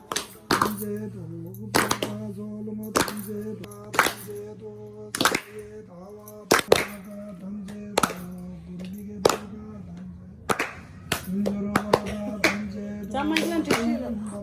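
Hands clap in sharp single smacks spaced irregularly over a steady sung or chanted voice with droning tones during a family graha dasha shanti puja; voices continue throughout.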